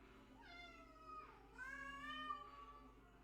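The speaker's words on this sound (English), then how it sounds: "The cat's trying to talk to someone." A cat meows repeatedly at close range, with long, drawn-out, wavering cries following one after another over a low, steady background hum.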